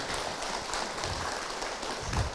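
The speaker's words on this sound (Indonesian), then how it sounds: "tepuk tangan Bu untuk" Audience applause at an Indonesian Ramadan religious talk, a steady wash of clapping hands filling the room without a break, fairly loud and close, with no talk over it.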